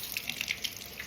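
Tap water runs steadily over celery stalks being washed, a close, continuous hiss with small splashy spatters as the stalks move under the stream.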